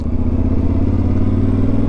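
Yamaha Ténéré 700 adventure motorcycle from 2022 being ridden, a loud, steady engine drone with low harmonic throb and wind buffeting, close to the rider, with no talk.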